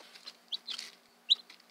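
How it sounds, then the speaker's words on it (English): Newly acquired chickens make soft, scattered clucks and brief squawks, a few short calls spread across a quiet indoor scene with faint background hum and no speech. "chickens now, and here they are right here."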